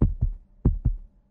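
A heartbeat sound effect in a horror story set in a hotel, with deep, loud, close double thumps repeating in a slow steady rhythm, alone with no voice.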